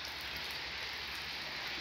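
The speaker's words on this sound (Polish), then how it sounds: "W końcu pada deszczyk." Steady rain falling outdoors, a dense, even hiss with no distinct drops standing out, continuous and fairly close throughout the short stretch.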